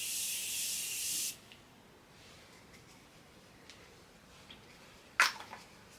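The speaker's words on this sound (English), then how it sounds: "So then I spray with my the Morphe finishing spray." A Morphe makeup finishing spray hisses from a pump bottle in one long, loud, steady mist burst of over a second, followed later by a short second spritz.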